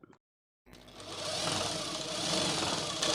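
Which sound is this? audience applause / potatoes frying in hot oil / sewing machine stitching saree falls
sewing machine stitching saree falls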